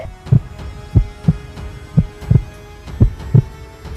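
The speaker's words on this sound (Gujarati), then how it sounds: "પથ્થરની મૂર્તિમાં ધબકારા ધબકે છે." A heartbeat pulses in a regular lub-dub rhythm, about seven low thumps over a faint steady hum, close and clear with no talk, presented as coming from a stone idol in a devotional family drama.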